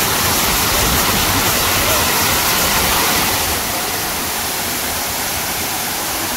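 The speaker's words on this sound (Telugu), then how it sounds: "వాటర్ సౌండ్ కిందకి స్ప్లాష్ అవుతుంది" Bheemuni Paadam waterfall near Warangal roars in a loud, continuous wash of splashing water, close and steady throughout, easing slightly in the second half.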